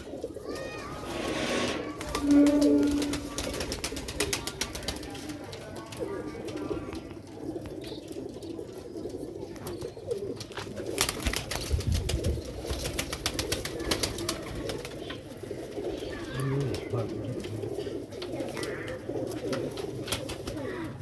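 Black-faced Sialkoti pigeons coo repeatedly in a busy, noisy setting, with soft rolling calls near and far amid general background clatter and rustling.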